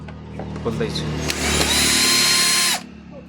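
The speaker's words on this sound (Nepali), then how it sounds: "र स्क्रु खोलिरहेको छु।" A power screwdriver unscrews screws while a vacuum cleaner is being opened: a few short clicks and bursts, then one loud, sustained motor whine lasting about a second that cuts off abruptly, heard close up with talking around it.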